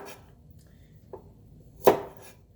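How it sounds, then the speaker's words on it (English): Two sharp knife chops on a cutting board as a vegetable is cut at the stem for a noodle stir-fry, a lighter tap followed by a louder, crisp cut, close and isolated. "I like to cut from the stem here instead of the floret here."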